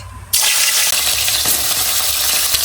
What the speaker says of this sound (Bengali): তেল গরম হয়ে গেছে দিয়ে দেবো ভোলা মাছ